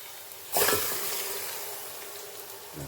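Water poured from a glass into a pot of soaked rice for ghee rice, a sudden splash followed by a soft, steady trickle fading over a couple of seconds, fairly quiet.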